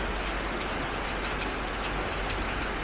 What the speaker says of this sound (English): We got really heavy rain now, so no way we can cut the grass.